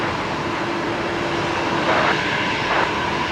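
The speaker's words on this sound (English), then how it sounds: "Aircraft, the 737 coming up to" A Boeing 737 approaching Brisbane Airport gives a steady, broad engine roar, distant and continuous throughout, with no talk over it.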